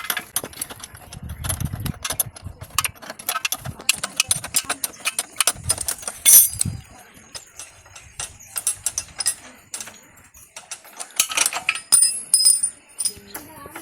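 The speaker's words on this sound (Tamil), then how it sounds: "பதினெட்டாம் நம்பர் ஸ்பேனர் போட்டு வீல் போல்ட்டை கழட்டிக்கலாம்" A number 18 spanner works a wheel bolt loose on a Hero Splendor Pro motorcycle during home servicing, giving close, rapid ratcheting clicks and metallic clinks in irregular bursts, with brief pauses and no talking.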